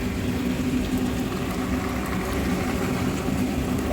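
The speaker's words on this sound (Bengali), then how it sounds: "এই জল ফুটছে" Water boils in a pot with a steady, dense bubbling roar that holds at an even level throughout, with no speech.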